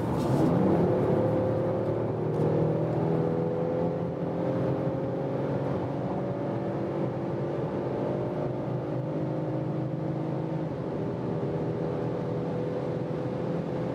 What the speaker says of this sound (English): now we can test how is the acceleration when we are already at speed from 120 kilometers an hour